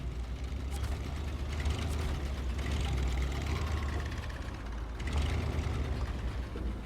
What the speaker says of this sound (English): Try to decide if it's got quite a grunty engine. Sounds quite old school, grunty.